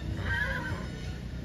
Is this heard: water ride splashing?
no